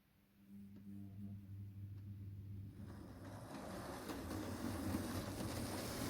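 A Hornby 00 gauge model locomotive pulls a three-car train, giving a steady low motor hum and track rumble that grows louder and busier partway through, with no talking.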